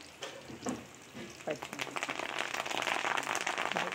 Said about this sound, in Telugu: కొంచెం దోరగా వేపుదాం.